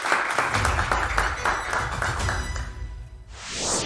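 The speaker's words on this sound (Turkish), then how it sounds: "Hanımlar beyler alkışlarla ilk kelime geliyor." A Turkish television word-game studio audience gives a dense, steady round of applause that fades as a rising sound effect sweeps in near the end.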